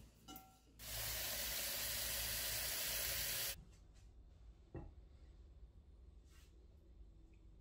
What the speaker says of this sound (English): All right, we're gonna fill it up with water.